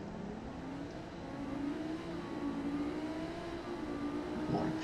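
A powerful car engine in the BeamNG driving game revs and holds a rising, whining drone, fairly quiet and steady with a brief surge near the end.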